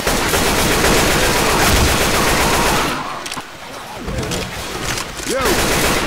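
Gunfire in the zombie video game Left 4 Dead 2: loud, dense automatic shooting that briefly eases off before picking up again, with a short voice near the end.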